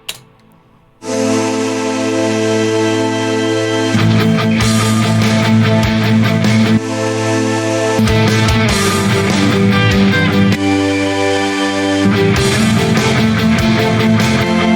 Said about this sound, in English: So here I'm doing just chords using Bright Rush pipe